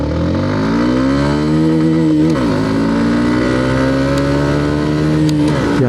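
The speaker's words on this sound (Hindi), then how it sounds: "अब हम लोग जो एक्सेलरेशन टेस्ट है वो भी कर लेते हैं" A TVS Apache 160 4V or Hero Xtreme 160R motorcycle accelerating hard from first gear in an acceleration test, the engine note rising loud and close, dropping at a gear change and climbing again.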